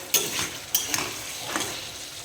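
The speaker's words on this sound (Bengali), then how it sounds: "এবার আলু আর ওলকপিটা দিয়ে একটু ভালো করে কষিয়ে নেব" Potatoes and kohlrabi cook in a pan with a splash of water, close and fairly quiet, with a soft sizzle under a few sharp clinks and scrapes of a spoon stirring them.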